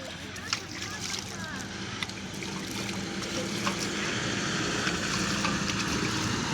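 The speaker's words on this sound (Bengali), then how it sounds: "এখন আমি পাটা ধুয়েলি।" Water runs and splashes steadily from a tap while feet are washed, close by and continuous, with faint clinks and a person speaking over it.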